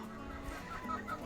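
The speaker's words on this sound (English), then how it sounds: "Now the chickens can come out this side door," Meat-bird chickens in a coop housing a 200-bird flock give low, close clucks in a brief steady murmur.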